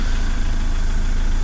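A van's 3-litre engine idles steadily, driving the alternator to charge the batteries: a loud, constant close-up engine drone with low rumble and vibration, no talk.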